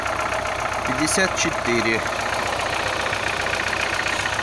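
A car engine idling steadily after a quick start, a constant close mechanical hum with someone speaking briefly over it.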